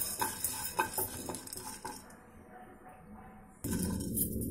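A spoon stirs urad dal and coriander seeds roasting in a pan, with quiet clinks and scraping strokes in the first half, then a lull before a sudden louder hiss near the end.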